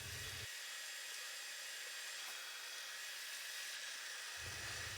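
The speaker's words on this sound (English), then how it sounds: "Using a small center drill, I'm going to locate each hole." A small center drill spots hole positions on a compound bow arrow rest in a machine shop, giving a steady loud whirring machine noise that runs unbroken throughout, with a deeper rumble at the start and end.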